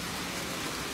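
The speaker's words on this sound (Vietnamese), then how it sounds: "Mưa quá cả nhà ơi, bữa nay đi mà ngay cái lúc đang mưa" Heavy rain pours steadily outdoors near a temple on the outskirts of Ho Chi Minh City, a dense, even hiss with no break across the short moment, close and fairly loud.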